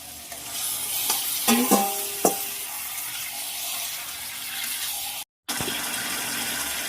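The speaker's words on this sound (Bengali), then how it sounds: "মাংসটা এবার দিয়ে দেবো।" Yogurt-marinated meat goes into a pan of frying onion and tomato, giving a continuous close sizzle with a burst of stirring clatter early on and a brief dropout near the end.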